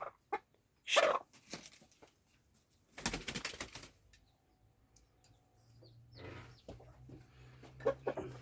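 Chickens in a village coop in rural Anatolia, with wooden perches, give a few sharp, scattered clucks and squawks. The calls come close by with quiet gaps between them and no one speaking.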